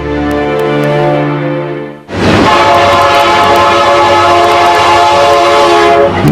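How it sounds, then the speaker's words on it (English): A giant railroad locomotive sounds a loud sustained horn chord, then breaks into a thunderous close roar of rolling wheels and engine as the train passes, no talking. "Today's giant locomotives are the latest muscle machines to power the railroad industry."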